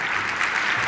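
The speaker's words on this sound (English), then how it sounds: "give Dr. Jordan a big round of applause." An audience gives a big round of applause for Dr. Jordan at an MSU Denver scholarship and auction event, a loud, continuous, dense clatter of many hands.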